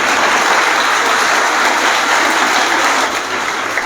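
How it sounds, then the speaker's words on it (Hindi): Audience at a Teachers' Day school event applauding for parents, a dense, steady wash of clapping from a large crowd that holds loud throughout and eases slightly near the end. "इनके लिए भरपूर तालियां एक दफा।"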